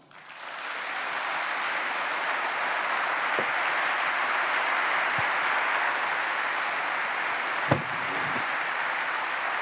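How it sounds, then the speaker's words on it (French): An audience applauds steadily for the new director of the Tour de France Femmes at a race route presentation, a sustained wash of clapping from a large crowd with a few sharper claps standing out. "Je vous demande d'applaudir la première directrice"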